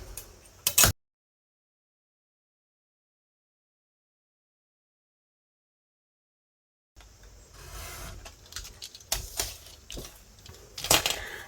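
Paper being cut for a scrapbook album: one quick close snip, a long silent pause, then a brisk run of crisp clicking cuts.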